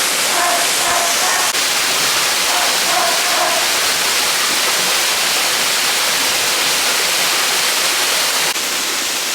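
Loud, constant rushing water from Sand Run Falls in Tioga State Park, a dense hiss with a few faint tonal beeps early on.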